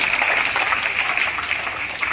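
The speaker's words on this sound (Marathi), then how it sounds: "टाळ्या वाजवायच्यासाठी." An audience claps during a talk, a dense, steady patter of applause that holds at even strength for about two seconds with no voice over it.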